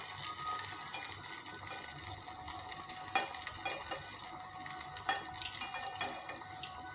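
Potato fritters (aloo bhaje) frying crisp in hot oil give a steady, close hiss with scattered sharp crackles and pops. No one speaks.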